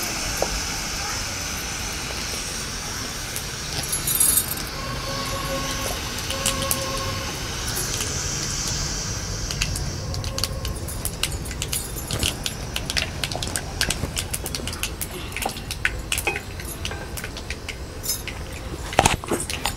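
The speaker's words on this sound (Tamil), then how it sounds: "கடுகு நல்லா பொரியட்டும்" Mustard and cumin seeds splutter and crackle in hot oil in a pan, a steady stream of sharp pops and sizzling that gets busier and denser toward the end, close and moderately loud.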